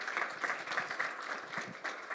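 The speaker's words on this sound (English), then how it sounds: "I want to give a round of applause to Darrell and Ian." An audience applauds a panel of CU Boulder athletes at a talk on athlete leadership: a steady, dense wash of many hands clapping, fairly soft and a little distant, with no voices on top.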